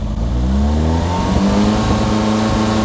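A Lotus Esprit engine revs up toward 3,000 RPM and then holds there with a loud, steady, close-up drone, with no speech.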